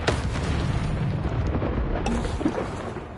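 Incendio fire spell blast in Hogwarts Legacy, a loud whooshing burst with booming rumble that sustains briefly amid other game effects, with a fainter crackle near the end.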